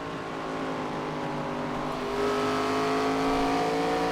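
Loud ARCA Menards Series race car engines roaring in iRacing at Bristol, a steady dense drone of several stock cars with harmonic engine whine rising slightly in pitch and volume partway through, no voices.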